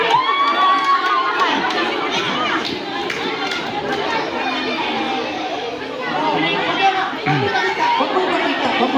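A large crowd at a clan reunion gathering shouts and cheers continuously, with children yelling and loud overlapping chatter filling the space throughout.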